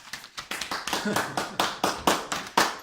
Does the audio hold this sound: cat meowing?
no